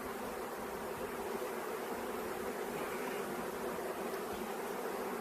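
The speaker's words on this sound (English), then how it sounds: "Bunches of bees" A swarm of killer bees gives off a dense, continuous buzzing hum, close by and steady in level throughout, with no voices.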